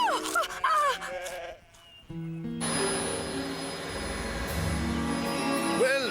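Sheep bleat in quick wavering calls, several overlapping near the start, then a brief lull before a loud roaring engine-like rumble takes over, with another bleat rising at the end over the noise.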